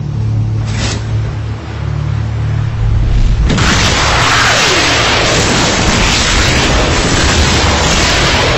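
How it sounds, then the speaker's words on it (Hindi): A missile launch from an Urdu/Hindi Islamic war film: a low rumble with a droning tone, then after about three seconds a loud, sustained roaring rush that fills the rest of the clip without a break. "ठीक है, तुम मिसाइल फायर करो।"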